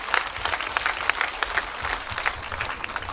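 A crowd at a school gathering claps together in a brief burst of applause, steady and fairly close, with no talking over it.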